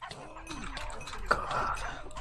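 A dog barks in a Minecraft Smash Heroes match, a few short yips and one sharper bark standing out over game noise and faint background sound.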